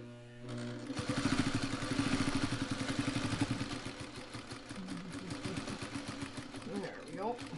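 A sewing machine stitches a quilt carrier, running in a fast, close, rapid clatter that starts after a short pause, with a few brief stops and restarts. Quiet speech is heard under it.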